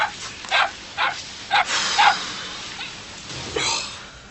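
A distressed dog yelps and whimpers in a series of sharp, separate cries at irregular intervals, fairly close, over a quiet background.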